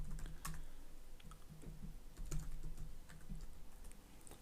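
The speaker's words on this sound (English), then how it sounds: "type in your username" A username being typed on a computer keyboard: a short run of quiet, close key clicks with small irregular pauses and one or two slightly firmer strokes, with no voice over it.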